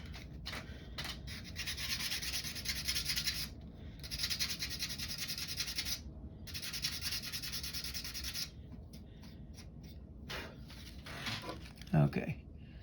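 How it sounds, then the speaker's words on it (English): A part of a Daiwa GS-90 fishing reel is sanded by hand in repeated rasping strokes that come in bursts with short pauses between them. The sound is close and quiet, and someone talks briefly near the end. "I am going to sand that just a little bit more right there."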